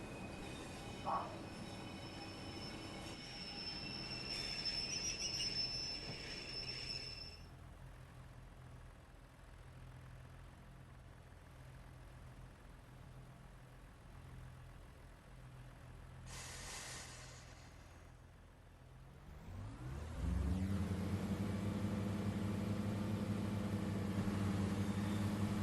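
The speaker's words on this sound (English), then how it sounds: "I prefer this engine compared to the 101 sounding engine." Diesel train engine from a Class 145 Pacer on the Blackpool Branchlines in Train Sim World 4, a low idling drone with a tonal whine, then revving up strongly near the end as it pulls away.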